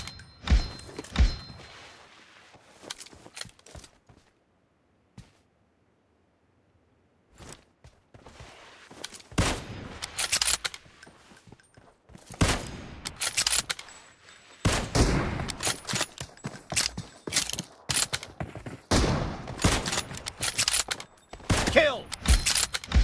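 Sniper rifle fire in a one-on-one team deathmatch shooter game: sharp gunshot cracks in scattered bursts, some closely spaced and some isolated, with a quiet gap early on and busier shooting later.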